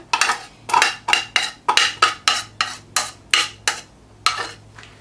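A spoon scraping and knocking against a bowl while yogurt is mixed into a bun kabab chutney paste, about a dozen evenly spaced strokes in a steady rhythm, close and clear with no talking.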